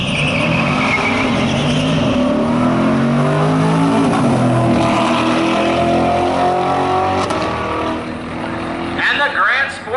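A Chevrolet Corvette Grand Sport roars down the strip at Coles County Dragway during a 2019 Corvette Funfest drag race. The engine note climbs steadily through the gears, loud and sustained, then fades as the car pulls away.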